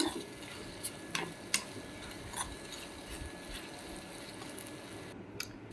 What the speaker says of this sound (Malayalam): നന്നായിട്ട് വഴന്ന് വരുന്നത് വരെ നമുക്ക് ഇളക്കിക്കൊണ്ടിരിക്കണം